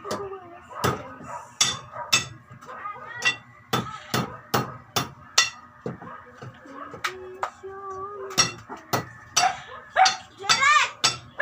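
A hammer strikes repeatedly in sharp, uneven blows, some in quick pairs, loud and close, while voices, including children, talk and call in between.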